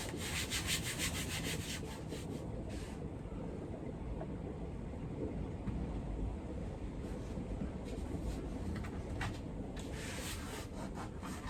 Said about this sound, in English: it'll probably need a little bit sanding off there and a little bit sanding off there